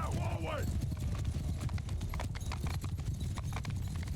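Cavalry horses gallop in Mount & Blade II: Bannerlord, a steady rush of many hooves clip-clopping close by, with a horse's whinny near the start, all heard without speech.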